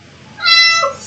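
A single clear house cat's meow sounds up close and fairly loud, rising then falling, with no other sound around it.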